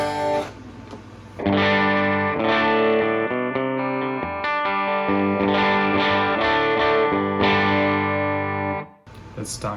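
A clean electric guitar runs through a Tone Factor XRIR impulse response, playing sustained, ringing chords and single notes for about seven seconds at a steady, full level before stopping abruptly.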